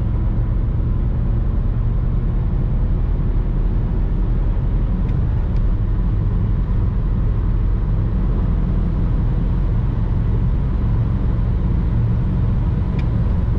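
A BMW E92 320d coupe with a 177 hp diesel engine and manual gearbox pulls at full throttle on a straight highway stretch, a loud, steady, deep engine drone and road roar heard from inside the cabin without pause.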